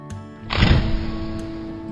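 A jar of garlic bursts open in a home kitchen while sauce is being made, giving one sudden close pop and hiss that fades into a steady noisy hum with no talk.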